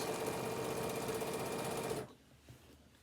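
Sewing machine stitching fabric for a tablet holder, a rapid, steady mechanical whir of needle strokes up close for about two seconds before stopping abruptly into near quiet.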